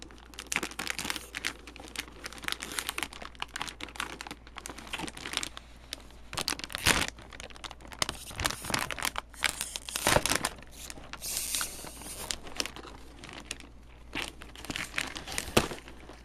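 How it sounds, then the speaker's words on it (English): A vacuum-sealed plastic bag holding a replacement motherboard for a Compaq Presario F700 is cut and peeled open, giving a continuous close crinkling and tearing of plastic with scattered sharper crackles and no talking. "cut the bag right below the vacuum pack seal and peel it off"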